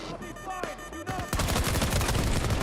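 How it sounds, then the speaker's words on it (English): Sentry guns in the Battlefield 2042 video game open fire in a dense rapid burst that runs loud and continuous for over a second, following a few scattered shots and game noises. "Oh my god, look at all the sentry guns."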